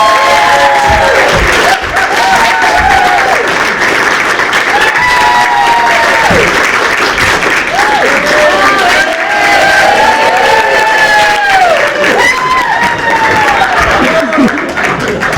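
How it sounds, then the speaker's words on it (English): A theatre audience at a stage production of A Scandal in Bohemia bursts into loud, sustained applause and cheering for an actor. Dense clapping fills the whole stretch, with whoops and shouting voices riding on top. "Please give a hearty round of applause for Dr. Watson"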